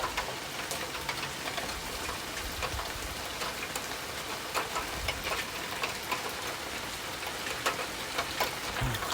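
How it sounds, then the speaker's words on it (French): Heavy rain mixed with hail pelting surfaces during a strong thunderstorm in Ille-et-Vilaine, France, a dense steady roar of drops with frequent sharp ticks of hailstones, close and loud throughout. "Ouais, il y a de la grêle."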